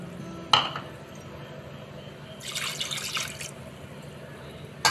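Water is poured into mashed rava in a pot for Tamil rava pongal, with a short splashing gush in the middle between faint clinks of a utensil.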